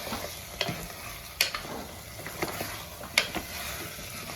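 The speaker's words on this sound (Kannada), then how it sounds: "ಚೆನ್ನಾಗಿ ಇದು ಸ್ವಲ್ಪ ಮಸಾಲೆನ ರೋಸ್ಟ್ ಆಗ್ತಾ ಇದೆ." Masala with turmeric fries in a pan for mutton leg soup, with a low steady sizzle and occasional sharp scrapes of a spoon stirring against the metal.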